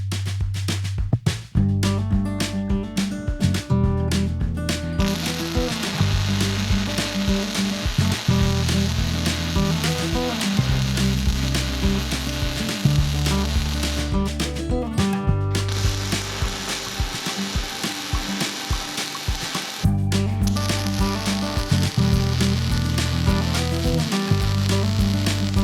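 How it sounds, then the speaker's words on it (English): Welding runs around the pins of a heavy-duty steel finger brake kit, with crackling, sizzling bursts that stop and start repeatedly, close and steady. "we can move on to fully welding the circumference of these pins"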